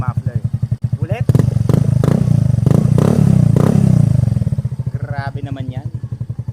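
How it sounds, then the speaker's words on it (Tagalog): A Yamaha Fazzio 125 scooter fitted with a tri-oval chrome full-system muffler exhaust idles with a loud, steady low putter, then revs up briefly with a rising roar and settles back to idle, recorded close. "Yamaha Fascio 125 full system exhaust, tri-oval chrome, yun po yung kinabit natin."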